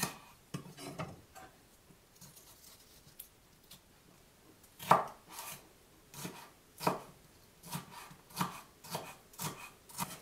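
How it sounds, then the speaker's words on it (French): Two mini bell peppers being chopped with a knife for Vietnamese caramel pork, a series of crisp, close blade strikes on a board, sparse at first, then faster and more regular, with no talking. "Je les hache."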